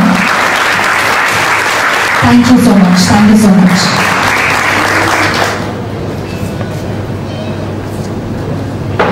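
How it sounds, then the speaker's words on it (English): A crowd claps loudly and steadily for several seconds while a voice speaks over the applause, which then gradually thins out. "Can we have a huge round of applause?"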